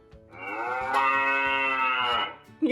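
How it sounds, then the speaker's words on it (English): A single cow gives one long, loud, drawn-out moo that rises, holds steady and fades. It is heard close up and alone, with faint soft knocks beneath it and a short noise at the end. "This is a cow."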